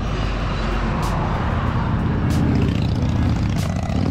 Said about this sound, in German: Mein Gott, wie an der Kette gezogen, die Autos an dir vorbei.